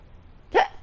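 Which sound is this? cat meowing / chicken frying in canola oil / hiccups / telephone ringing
hiccups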